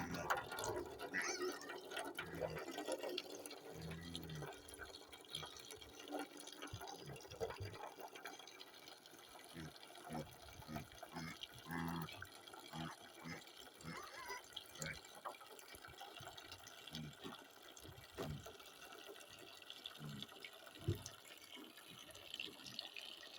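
Water poured onto a potted plant, a quiet trickling and splashing stream with gurgling pulses, faint and close, with a voice speaking briefly in the background.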